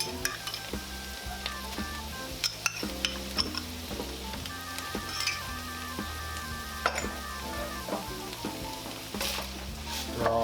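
Minced garlic sizzles with browned, drained hamburger meat in a pan, a steady close frying hiss with occasional scrapes and clinks of a utensil stirring, no talking.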